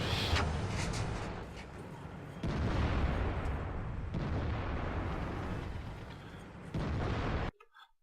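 Tank cannon fire from a tank video game booms loudly in a few heavy blasts, each followed by a long rumbling tail, with an abrupt cutoff at the end.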